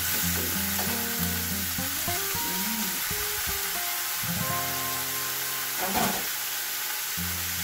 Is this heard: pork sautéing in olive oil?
yes